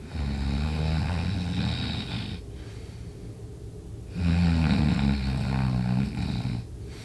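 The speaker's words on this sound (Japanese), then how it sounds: "もちろんこのいびきは演技です。" A person acts out snoring while pretending to sleep, two long, loud, close rasping snores separated by a quiet pause, with no talking.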